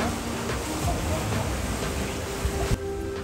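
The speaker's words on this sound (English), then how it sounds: "the wind picked up, and we were sailing" Strong wind and rushing water roar around a sailboat in rough, turbulent seas, a loud continuous wash with gusting buffets and an abrupt thump near the end.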